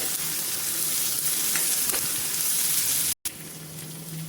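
Chopped tomatoes frying in a pan while bitter gourds are being stuffed and cooked, a steady close sizzle that runs throughout with a brief drop to silence near the end, and no voices.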